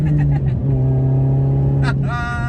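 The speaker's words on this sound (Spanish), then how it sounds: "Supercargado más combinado con ruido de escape por los pops" From an R53 Mini Cooper S, a loud, close engine note climbs steadily with supercharger whine, then ends in a sharp burst of exhaust pops before the revs rise again, as voices talk over it.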